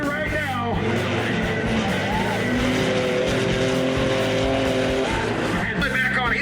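A fast Chevy truck racing through a mud bog, engines roaring and revving hard with rising and falling pitch, loud and close, under excited commentary.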